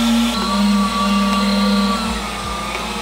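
An electric meat grinder churns through pork, its motor holding a loud, continuous drone with a steady hum throughout, no voices over it.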